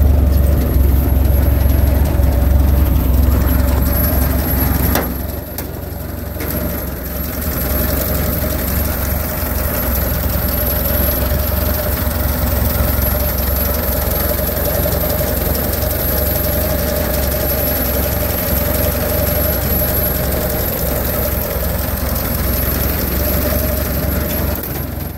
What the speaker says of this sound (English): Let's listen to the engine for a minute before we take it out on a drive.